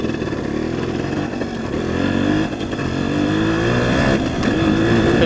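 A 1975 Suzuki RV-90 motorcycle with a worn, decades-old gearbox and clutch runs close and loud, its engine note steady and buzzy with a slight rise partway through, and no voices.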